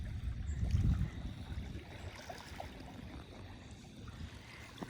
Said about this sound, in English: I hear the pleasant ocean sound coming from the Mississippi River